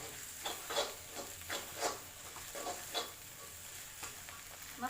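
Biryani masala from a biryani kit frying in a pan with chicken biryani ingredients, a soft steady sizzle broken by repeated scraping stirs at a gentle, uneven rhythm, close and fairly quiet with no talking.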